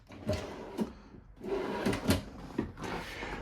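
A full-extension ball-bearing drawer in a plywood box slid open and shut a few times, smooth rolling runs ending in soft knocks, close by with no talk.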